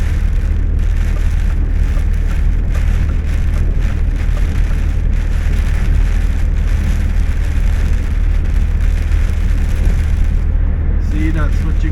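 Heavy rain pelting a lorry, a dense continuous hiss and patter of drops on the metal close by, with a low steady engine rumble underneath throughout.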